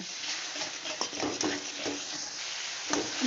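Peas stir-fried in a pan with sardine fish curry, a soft steady sizzle under intermittent spatula scrapes and knocks, fairly quiet and close.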